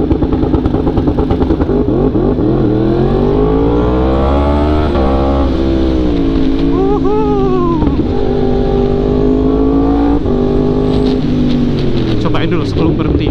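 A Yamaha R1M sportbike ridden with its quick shifter engaged runs loud and close, the engine note rising through the revs and stepping down at quick gear changes over a steady roaring drone, with a rider talking now and then.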